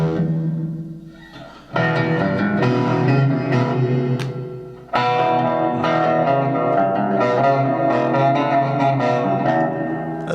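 An electric guitar plays loud chords and riffs through a distortion effect, the gritty sustained tone ringing out with a brief pause between phrases.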